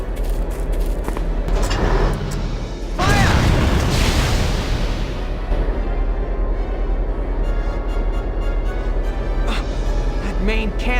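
Tank main cannon firing in the video game Valkyria Chronicles during a battle: a loud, heavy boom around three seconds in that rolls off over the next couple of seconds, set against a steady din of battle sounds.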